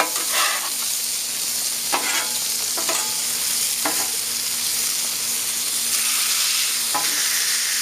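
Food sears on a Blackstone Adventure Ready 17-inch tabletop portable griddle, a steady close sizzle punctuated by several sharp scraping taps of a spatula pressing and turning.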